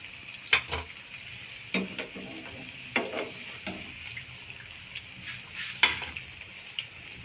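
Bread pakoras frying in a pan of hot oil: a steady low sizzle broken by occasional clinks and scraping stirs, close and moderate in level, with no talking.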